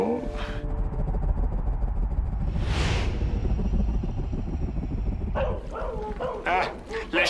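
A cartoon dog, a yellow dog in an animated space adventure, barks and yips over a rumbling background with a whooshing effect, fairly loud and close, while voices speak around it.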